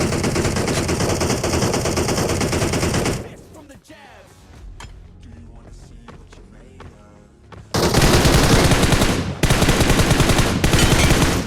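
Gunfire in PUBG Mobile played on an emulator, dense loud bursts of automatic shots at the start and end with a quieter stretch of scattered clicks and thuds between.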